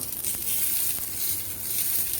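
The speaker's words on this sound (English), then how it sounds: "you can smell the prawns when you are frying" Steady, close sizzling of prawns frying in hot oil in a pan, continuous and bright with no talking.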